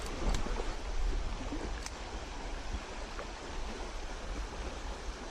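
Fast-flowing stream water around a log on a trout-fishing outing, a steady broadband rush with no voices present, faint and continuous throughout.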